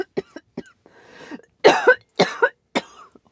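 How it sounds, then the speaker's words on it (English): A person coughing in a quiet room: a string of short, dry coughs and throat clearing in uneven bursts, close and alone with no talk. "Clearly still not over like my coughing stuff."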